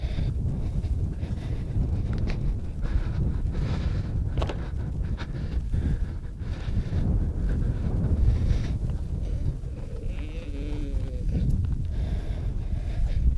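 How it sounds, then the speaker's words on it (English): Gusty wind buffets the microphone in low, continuous rumbles at an RC plane flying field, with a few voices speaking faintly underneath. "Yeah, it's windy."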